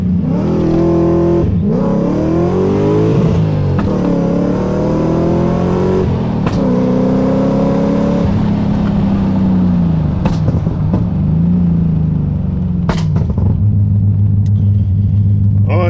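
A drag race car accelerates hard down the strip, its engine revving up loudly through several gear changes with rising and dropping pitch, then settling into a steady drone close to the microphone.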